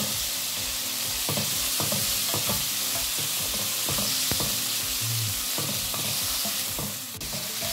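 Ground meat frying in a pan with a steady sizzle, while a utensil scrapes and stirs in quick, repeated strokes, close and continuous without talking.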